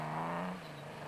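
A Porsche rally car engine screams during the Limpopo 400 rally with a sustained high, droning engine note that eases slightly partway through the brief moment.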